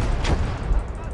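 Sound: mortar fire in video game Close Combat

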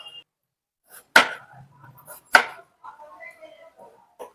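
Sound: potatoes being chopped into large pieces

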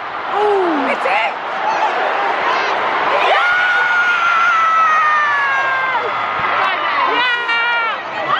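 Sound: football fans cheering at England vs USA women's match

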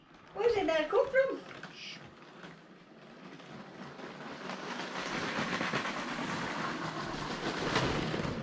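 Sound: toy train running on track

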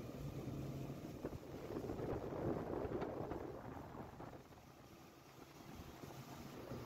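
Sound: homemade boat planing fast with engine running

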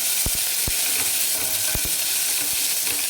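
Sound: curry leaves, green chillies and crushed garlic frying in oil

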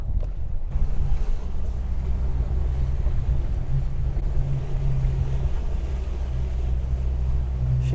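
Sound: lodos wind blowing over harbour with boats

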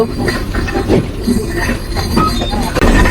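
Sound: express train running onto bridge

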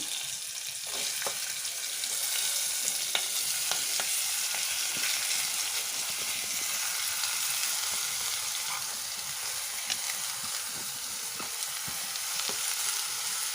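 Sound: onions frying and stirred in pan

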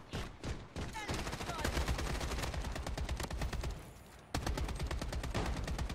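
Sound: AK rifle gunfire in the video game Project Bloodstrike

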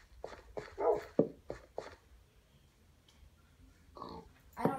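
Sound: dog in the Minecraft video game

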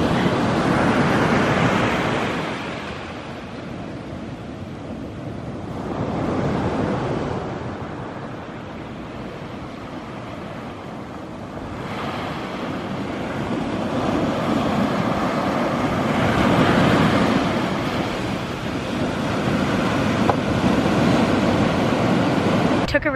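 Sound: ocean waves on a California beach

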